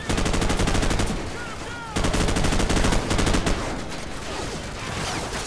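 Loud, sustained automatic gunfire from the shooter game Call of Duty 4: Modern Warfare, fast rattling bursts with a brief gap, then more firing mixed with explosions and the dense din of close combat.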